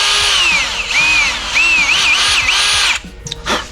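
A power tool spins up and bogs repeatedly while tightening a thick part with high torque, its pitch rising and falling in several close, loud bursts before cutting out.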